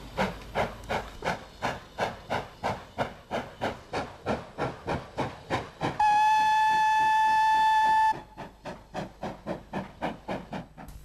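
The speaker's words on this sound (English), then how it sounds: "Here, a standard Class 3 leaves with a train for Pickering and Malton." A standard Class 3 steam locomotive pulls a train out of Goathland station with strong rhythmic chuffs that come quickly and evenly, then sounds a long steady whistle before the chuffing carries on.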